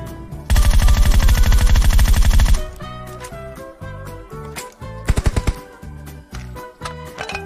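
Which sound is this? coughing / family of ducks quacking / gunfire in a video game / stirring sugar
gunfire in a video game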